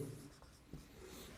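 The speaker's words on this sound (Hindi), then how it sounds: "तो चलिए लिखते हैं" Pen writing notes on paper during a physics lesson, a soft continuous scratch with a couple of brief stroke accents, close and quiet with no talking.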